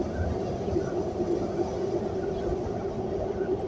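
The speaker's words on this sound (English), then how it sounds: "That's a loud train." A loud train passes nearby, a steady, dense rumble with rolling low-end roar and rail noise holding at constant strength throughout, no voices over it.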